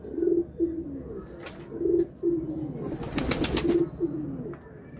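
Pigeons coo in a pigeon house at night, low, repeated throaty calls close by, with a short burst of wing flutter partway through.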